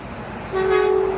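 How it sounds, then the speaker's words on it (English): A Freightliner Columbia truck's horn sounds once, a loud, steady tone that starts midway and holds to the end over a background of street noise in South Lake Tahoe. "Oh yeah, finally honking the Freightliner Columbia."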